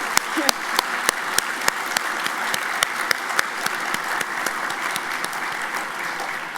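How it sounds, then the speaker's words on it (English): Audience at an awards gala for an operations research competition applauds, many hands clapping in a steady dense wash with several sharp, close individual claps punctuating it throughout. "let's give them a round of applause"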